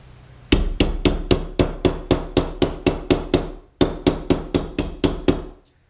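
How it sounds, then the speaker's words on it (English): A hammer taps metal to dimple a peacock pendant, about seventeen sharp, ringing strikes at a slow, even pace, split into two runs by a brief pause, close and clear. "Tap it slowly, and we're starting to get a nice little dimple going."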